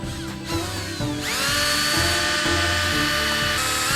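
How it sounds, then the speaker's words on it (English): A power drill bores a hole in a homemade winter front cover for a Suzuki Samurai, a short whine first, then a sustained high buzzing that climbs in pitch as the bit spins up, loud and close with no talk. "So now we're gonna just drill a hole."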